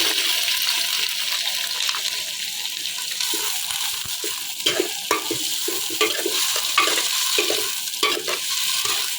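Chopped onions, ginger, garlic and green chillies sauté in oil in a pan for mutton dum biryani masala, making a continuous close sizzle broken by repeated scraping stirs of a spoon.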